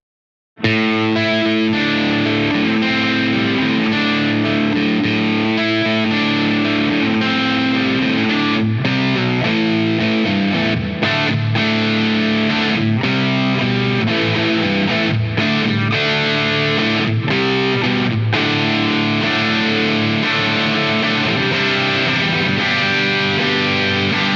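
An electric guitar runs through an Aclam Cinnamon Drive Dreamer Edition overdrive pedal, a loud, continuous distorted tone of sustained chords and riffs with brief pauses between phrases.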